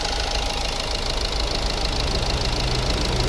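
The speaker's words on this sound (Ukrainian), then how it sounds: "Ось робота двигуна." Renault Grand Scenic III (2013) with a 2.0 dCi diesel engine and automatic gearbox idling, a steady, even mechanical hum with a faint diesel clatter, recorded close and continuous with no talking.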